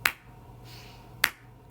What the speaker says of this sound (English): Now I will clap the beat and try to do the same thing.